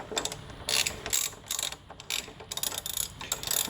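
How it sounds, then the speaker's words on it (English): Ratchet clicking in short bursts while tightening the front wheel nut on a Honda GL1500 motorcycle, a close, fairly quiet series of rapid mechanical clicks with brief pauses between strokes. "where'd my ratchet go? There it is."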